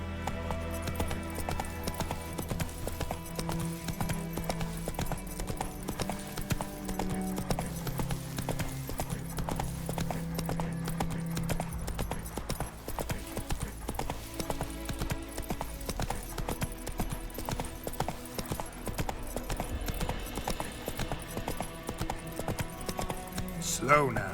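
In The Witcher 3, a horse's hooves beat out an even clip-clop under game music, while voices talk over the hoofbeats for much of the stretch.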